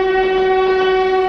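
A Mumbai train sounding a loud, sustained horn close by, a steady tonal blast that holds for the whole moment.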